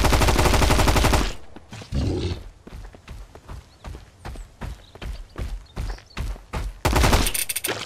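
In the survival video game Mist Survival, an M4 rifle fires in bursts and sustained automatic volleys, with rapid, loud, close cracks at the start and end and shorter bursts between.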